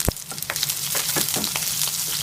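Curry leaves, green chilies, ginger and garlic sautéing in hot oil for an egg curry, a steady close sizzle with scattered crackling pops and spoon taps, no talking.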